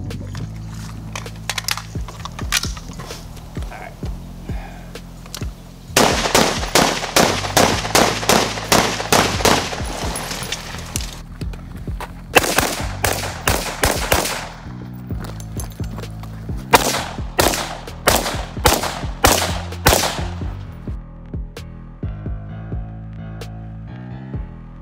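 Bursts of rapid, loud gunfire ring out in repeated strings while the shooter walks and fires on the move, separated by brief quieter gaps.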